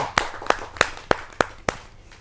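Clapping welcomes a poet onto the stage at a televised Hindi kavi sammelan poetry gathering: six sharp, evenly spaced claps in a steady rhythm, loud and close, with no talking.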